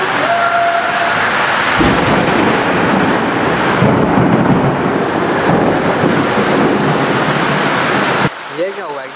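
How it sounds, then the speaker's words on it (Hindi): Heavy rain pours steadily with rumbling thunder, a loud, dense wash close to the microphone that continues for several seconds before cutting off abruptly, followed by a brief moment of quieter sound. "बारिश भी आ रही है"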